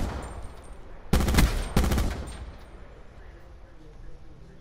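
Shotgun blasts in the video game Call of Duty Black Ops 4, two loud, close booming shots about half a second apart, each trailing off into a fading echo over low background noise.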